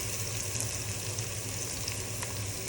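Bottle gourd and lentil curry sautés in a pan with a constant, close sizzle and soft stirring scrapes, the frying hiss holding even throughout.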